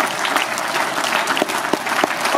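Spectators clapping at a cattle show in Uttendorf, an even, continuous patter of many hands at moderate distance with no talk over it.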